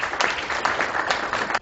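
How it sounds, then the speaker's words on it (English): Brief burst of audience applause at a NATHEALTH annual event as a speaker is welcomed to the podium, a dense patter of clapping that cuts off abruptly at the end. "Ladies and gentlemen, please welcome him to the podium with a round of applause."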